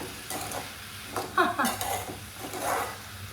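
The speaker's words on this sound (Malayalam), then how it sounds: "അപ്പോൾ ഇതാ നല്ലവണ്ണം ഇളക്കി വെച്ചിട്ട് അടുക്കളയിൽ പാചകം ചെയ്യുന്നു" Food cooking in a pot on a home kitchen stove is stirred, giving close scraping strokes and light clinks of a utensil against the pot over a faint sizzle.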